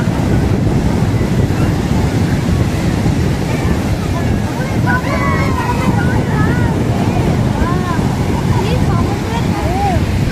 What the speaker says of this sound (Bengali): এই আমরা এসে গেছি সমুদ্রের ধারে